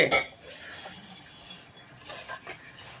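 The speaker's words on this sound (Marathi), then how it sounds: "बघा उलशी चिमुकली कशी पण भांडे घासते" A little girl scrubbing dishes and pots makes brief clinks and scraping rubs of metal utensils, close and intermittent across a few seconds.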